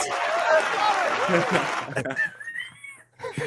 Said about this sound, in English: You got this huge crowd applauding.